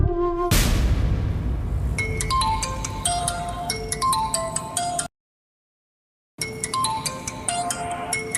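Phone ringtone for an incoming call, a bright melodic tune of repeated chiming notes playing loudly, cutting off briefly into silence and then starting again.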